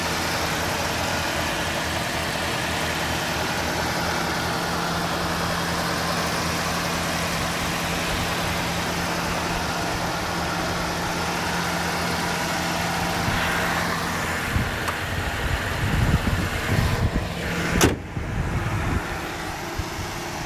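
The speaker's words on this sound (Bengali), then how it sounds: "গাড়িটি একটু ইঞ্জিন স্টার্ট করে দেখেন।" A 2001 Toyota RAV4 with an 1800cc engine idles steadily and close by, a smooth low hum that holds level for most of the stretch before a few louder revving bursts and clunks near the end.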